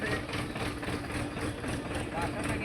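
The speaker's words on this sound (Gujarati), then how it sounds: "ટ્રેક્ટર છે સમજો" A tractor engine idles nearby on a village road, a steady low rumbling chug running through the short stretch with faint talk behind it.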